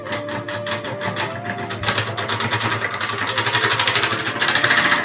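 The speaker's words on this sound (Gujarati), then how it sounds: "આ પંખો ઓલ્ડ છે ને એટલે એવું બોલે" An old ceiling fan runs noisily in a room, giving off a steady rattling, tractor-like mechanical drone that grows gradually louder and rougher toward the end, with no talking over it.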